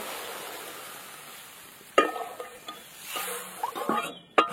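Water poured into hot spice paste frying in oil for a Bengali koi fish and potol curry: a faint hiss gives way to a sudden burst of sizzling and crackling that swells and spatters, close by.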